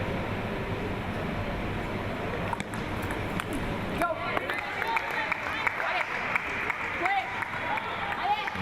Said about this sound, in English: A big applause there for Walcott from her coach.